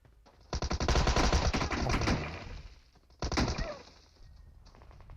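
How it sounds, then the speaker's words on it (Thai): Gunfire in PUBG Mobile crackles in two loud, dense bursts of rapid automatic shots, the first lasting nearly two seconds, then a shorter burst that fades into scattered echoing tails. "ยิงกันจนเกาะหมดอ่ะ"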